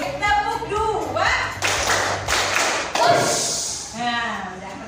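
A classroom of children claps in quick rhythmic bursts on their teacher's cue, the sharp claps loud and close, mixed with the teacher's voice and children's voices speaking and chanting.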